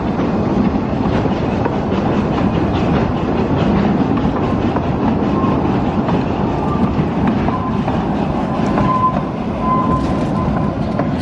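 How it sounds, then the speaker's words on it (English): A zoo's small passenger train on a test run rumbles and clatters steadily on its track, wheels clicking over rail joints with faint squeals, close and loud with no talk. "This is basically getting the train ready."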